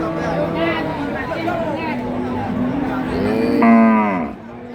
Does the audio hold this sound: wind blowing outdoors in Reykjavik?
no